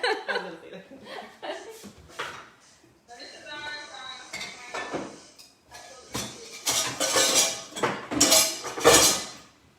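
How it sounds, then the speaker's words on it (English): A frying pan of meatballs is handled while the grease is drained, giving clanks and metallic clinks in scattered bursts, close by in a home kitchen, mixed with laughter and people talking. "I have a decent amount of grease at the bottom of this that I'm actually gonna drain out"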